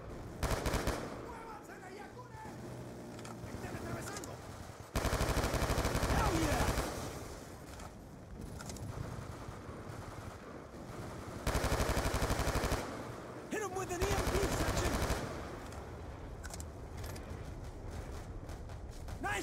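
Automated turret gunfire in a jungle military shooter set in Myanmar: loud sustained bursts of rapid machine-gun fire recurring between quieter stretches, with voices shouting over the combat.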